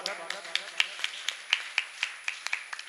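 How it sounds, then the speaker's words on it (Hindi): Clapping welcoming a yoga trainer at an International Yoga Day gathering: a steady run of about a dozen sharp claps, fairly close and moderately loud, with faint voices behind. "आपके लिए भी एक बार जोरदार तालियों स्वागत"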